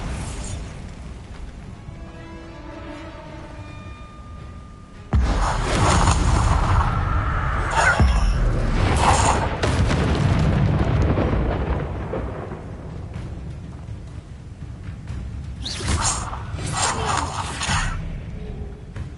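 A loud magical blast from the Bombarda spell in Hogwarts Legacy erupts suddenly with a deep rumbling boom, followed by crashing, rattling debris and a second burst of clattering impacts.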